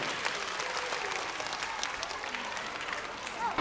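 An audience of young schoolchildren claps and cheers to welcome a children's theatre troupe, a dense, lively burst of applause with excited crowd noise throughout.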